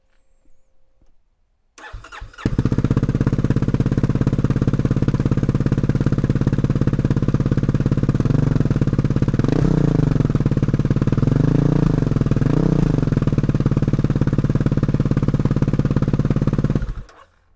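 Kawasaki KLX300R dirt bike fitted with an FMF Q4 exhaust fires up and runs loud and close, a steady throbbing idle broken by several quick revs in the middle, then cuts off, no speech.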